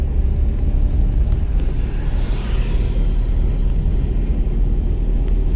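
A car engine drones steadily with a loud, low rumble during a driving lesson, its pitch holding fairly even throughout.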